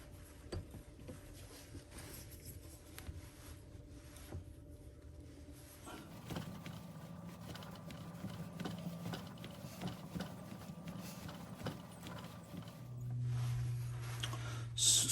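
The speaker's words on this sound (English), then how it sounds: "We're going to use a triple start tap and die, and then we'll just run that through here." Triple start tap cutting threads into an acrylic fountain pen part on a lathe, a steady low machine hum with faint scraping and ticking, shifting in tone partway through and ending with a louder whir.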